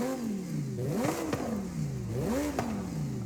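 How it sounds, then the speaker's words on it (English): A Lamborghini Huracan STO engine in Forza Horizon 5 revs steadily, its pitch rising and falling in repeated sweeping surges, loud and continuous. "The Lamborghini Huracan STO is now in the game."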